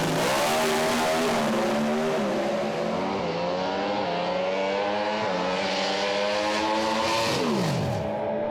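A Pro Stock drag racing car launches down the track, its engine roaring loudly and steadily, with rising then shifting tones as it accelerates hard and pulls away, no voices over it.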